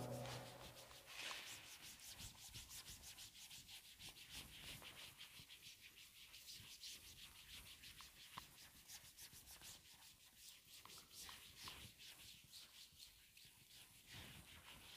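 A blackboard is rubbed clean during a lecture, giving a steady, dry scraping and rubbing sound in close, repeated strokes that runs continuously.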